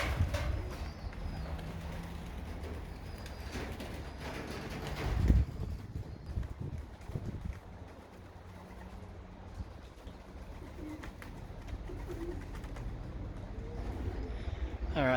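Young racing pigeons coo softly at a loft, low murmuring calls against a quiet background with a brief rustle near the middle.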